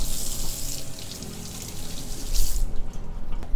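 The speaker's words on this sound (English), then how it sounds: "So just put on the running water, lightly wash it off." Tap water runs steadily with a broad hiss, splashing and shifting as chicken breast is rinsed under the stream.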